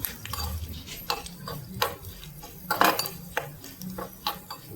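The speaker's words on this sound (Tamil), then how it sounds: "எப்படி பொரியறது பாருங்கள் வத்தல்." Sun-dried manathakkali vathal (nightshade berries) frying in a pan: close, dry crackles and sharp pops in an irregular scatter, with a few louder snaps and light clinks over a low sizzling hiss.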